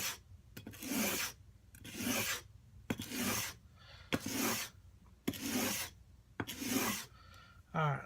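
A plane iron being sharpened by hand on a board makes six or seven even, rhythmic rasping strokes, each about half a second long with short pauses between, close and fairly quiet with no talking.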